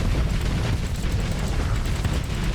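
Harpoon missiles firing and exploding in the space game Starsector: a dense, continuous roar of booming blasts and rumbling detonations throughout.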